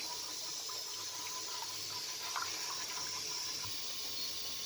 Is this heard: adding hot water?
yes